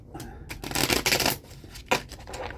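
A pack of playing cards is shuffled in several quick riffling bursts, close and fairly loud, with brief pauses between them and no talking.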